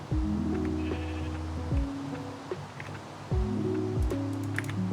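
Sheep bleating in a video game farm, a run of wavering cries followed by a second bleating burst after a pause, fairly close and alone.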